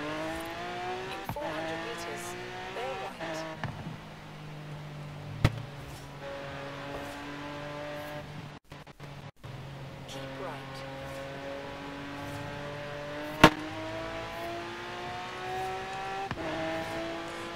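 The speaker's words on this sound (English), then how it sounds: "Now this Centanario is twin turbo." A twin turbo Lamborghini Centenario races through repeated gear shifts in Forza Horizon 3. Its engine note climbs and drops in sweeping revs, with a few sharp clicks and thumps, and a voice talks faintly in places.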